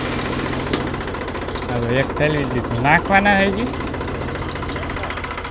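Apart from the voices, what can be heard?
tractor engine running while sowing peanuts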